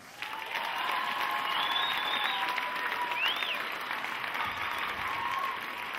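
Sustained applause from a sizable crowd, a steady wash of clapping that holds at an even level throughout.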